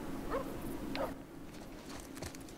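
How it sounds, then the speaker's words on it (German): Dogs whimpering and yipping in The Last of Us, a few short, fairly faint high whines and a yelp spread across a dim ambient background, with a soft thump near the end. "Die Hunde machen mal so ein bisschen Sorgen, als ob die mich gleich angreifen werden."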